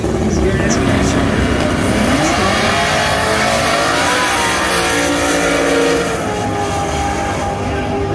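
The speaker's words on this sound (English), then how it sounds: "Turbocharged Camaro right hand side" A turbocharged Camaro makes a drag racing pass at a MidWest Drags event at Atco, its engine roaring loudly and continuously with rising revs under an announcer's voice.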